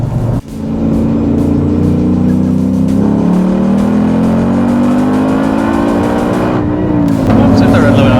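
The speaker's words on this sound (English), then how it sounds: "Oops, hit the red limiter." A loud 2024 Ford Mustang Dark Horse engine revs hard into the rev limiter and holds high, droning steadily for several seconds before dropping off and revving again, close by.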